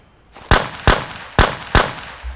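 Four sharp gunshots ring out at a steady pace in the survival shooter Road to Vostok, each a loud broadband crack with a short decaying tail, alone with no talk.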